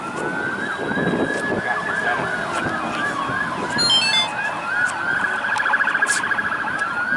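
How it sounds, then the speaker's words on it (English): An ambulance siren wails in a steady rising and falling cycle over ongoing traffic noise in La Porte, Texas, moderately loud and continuous throughout. "that's an ambulance."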